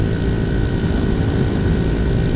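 A Honda Mio i 125 CVT scooter, fitted with 11 g and 12 g flyballs and a 1000 rpm center spring, is ridden fast near full throttle. A loud, steady engine drone is mixed with heavy wind rush.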